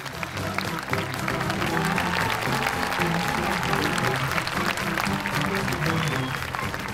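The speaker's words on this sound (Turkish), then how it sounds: "Alkışlarınızla ilk kül yutmaz yarışmacım Seren Sadıç" A crowd applauding steadily and loudly for several seconds, a dense wash of clapping with no pause.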